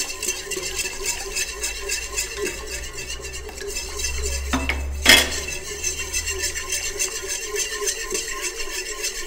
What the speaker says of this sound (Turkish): İyice ılıttıktan sonra hepsini beraber karıştıracağım.